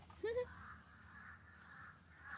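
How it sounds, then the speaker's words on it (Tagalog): A single harsh caw from a bird rings out briefly, then fades into a quiet outdoor background hum. "Ayan yung mga ibon, nag-aaway-away sila."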